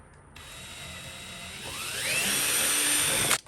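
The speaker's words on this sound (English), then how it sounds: "let's go ahead and drill that hole" A power drill whines as it bores a hole in a walnut and cypress bandsaw box, its pitch climbing steadily for a few seconds before cutting off abruptly.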